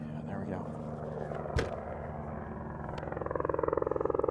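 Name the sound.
helicopter flying overhead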